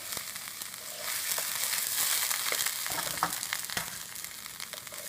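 Steady, loud sizzling of tempering spices frying in hot oil for moong dal, with crackles and pops over a continuous hiss and no talking.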